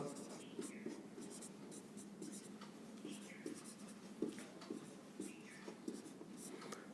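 A pen writes out a math equation for a Class 10 algebra exercise, producing quiet continuous scratching and tapping strokes throughout.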